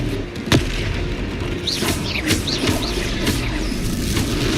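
Confringo fire spell blasts in the Hogwarts Legacy video game, a series of booming explosive bursts over a continuous loud battle din, with sharp bright impacts recurring every half second or so.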